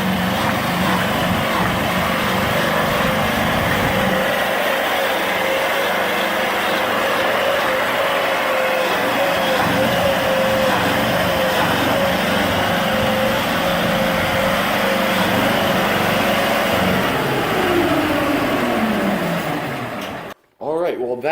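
A homemade tank's engine runs steadily through a test drive, a loud, continuous droning rumble with a faint whining tone riding over it, holding nearly constant before cutting off abruptly near the end.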